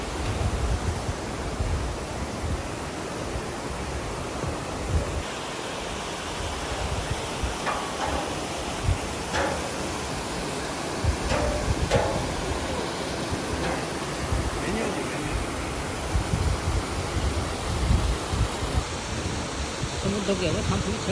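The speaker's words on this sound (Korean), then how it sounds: "이름은 없지만 2단 폭포가 참 아름답죠." An unnamed two-tier waterfall above Cheondang Falls on Mt. Seoraksan rushes as a steady, broad roar of falling water, with a few faint clicks and knocks over it.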